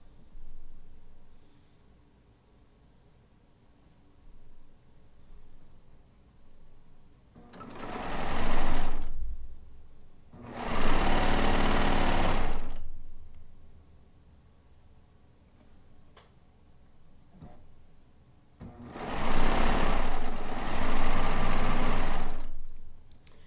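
A sewing machine pieces quilt blocks from a Kaffe layer cake in gray thread, running in three loud bursts of rapid stitching separated by quiet pauses, with no talk.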